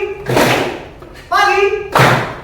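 A classroom of students gives a single sharp clap, loud and close, between stretches of a teacher's voice.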